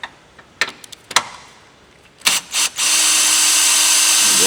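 A power drill works a bolt loose on a Subaru VB WRX, first a few short taps and bursts, then a loud, close, sustained whir through the last seconds.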